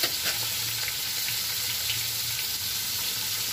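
Spiny gourd (kakrol) frying in a pan, a dense continuous sizzle that stays fairly loud and even throughout, with faint scraping underneath and no one talking.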